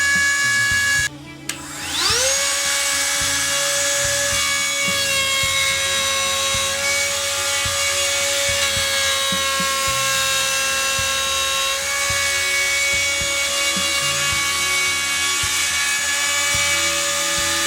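A bearing-guided router trims a guitar scratch plate along a template, a loud sustained high-pitched whine that spins up after a brief pause and cuts steadily with slight variations as it moves around the edge.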